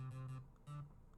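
Synth playing a chord progression: sustained tonal chords swelling and fading in two or three bars, faint and smooth with no voices.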